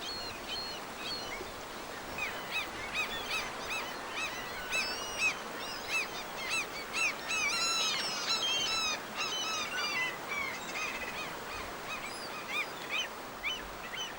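Seagulls by a salmon river with bears feeding along the bank, calling over and over in a chorus of squawks and honking cries, at moderate distance above a steady rushing background.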